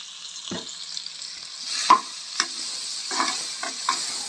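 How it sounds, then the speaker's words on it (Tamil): Onions and green chillies fry in a pan for a mint and coriander pulao, giving a soft steady sizzle broken by several sharp clinks and scrapes of a spoon stirring against the vessel. "வெங்காயம், பச்சை மிளகாய் ரெண்டையுமே போட்டுட்டேன்."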